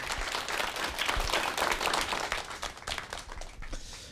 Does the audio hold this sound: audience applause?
yes